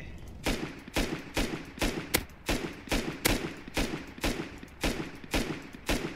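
An AK rifle in Rust fires a steady series of loud, evenly spaced shots, about one every half second, each a sharp crack with a short reverberant tail, continuing alone without speech.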